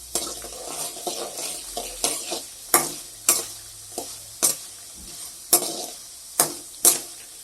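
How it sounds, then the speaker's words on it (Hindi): Eggplant pieces frying in a pan with a low sizzle, punctuated by a sharp spoon scrape or clink about every half second, close by. "इसको हम लाल फ्राई करेंगे"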